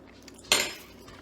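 A single sharp metal clatter of a spoon against a pot while pasta is stirred with dollops of Greek yogurt, brief and close, fading quickly into quiet.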